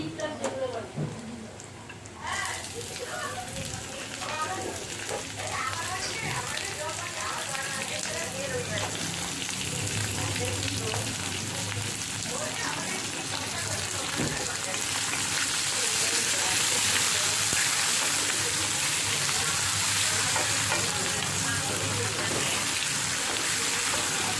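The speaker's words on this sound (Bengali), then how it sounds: "এবার কুচনো পেঁয়াজগুলো দিয়ে দেবো।" Chopped onions sizzle in hot oil with rice that is being fried for a fish-head mudo ghanto dish. The sizzle is loud, steady and continuous, with a faint voice in the background.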